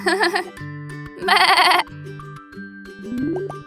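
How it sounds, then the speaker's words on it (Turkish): Young goat kid bleating in a short series of wavering cries, close and fairly loud, with a low steady tone underneath and a rising tonal sweep near the end. "Keçinin yavrusu oğlaktır."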